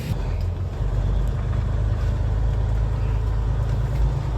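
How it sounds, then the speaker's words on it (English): A Western Star truck engine rumbles steadily and close by, a deep continuous drone with no talking. "I'm gonna move this Western Star truck while I'm here."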